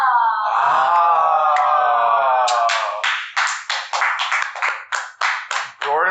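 A group of people claps in quick uneven bursts over a drawn-out wailing voice. The claps start partway through and keep coming in a loose, choppy rhythm, loud and close.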